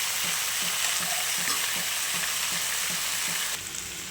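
Potatoes, broccoli and peas sauté in a pan, giving a steady hissing sizzle with evenly spaced stirring scrapes about twice a second, close and continuous.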